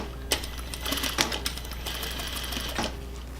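A sewing machine stitches gathered lace onto a lining layer, its steady mechanical whir running close and continuous with a few sharper clicks and bursts of faster stitching.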